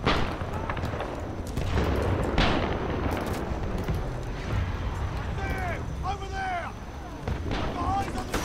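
Weapon gunfire in the shooter game Titanfall 2: loud booming shots and bursts, spaced irregularly over rumbling battle noise, with a voice talking over parts of it.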